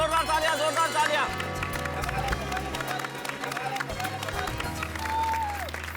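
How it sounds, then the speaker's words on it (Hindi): Enthusiastic applause from an audience at a Children's Day celebration in a housing society, dense clapping and cheering under loud music and crowd noise. "एक बार जोरदार तालियां।"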